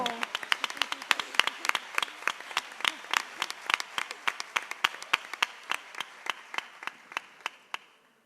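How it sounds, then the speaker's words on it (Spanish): Audience applause at a flamenco celebration in Coria del Río, a dense burst of clapping that thins into a slowing series of single, sharp, evenly spaced claps before stopping. "Un aplauso para ustedes, hombre, qué buen público."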